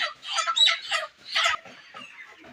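Broiler chickens squawk and cluck while being caught, in several short, close bursts, one louder flurry midway, with no one talking.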